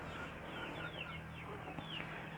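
Chickens scratching through a heap of fallen-leaf compost cluck softly and faintly over a low background hum, with several short chirpy calls scattered irregularly across the moment.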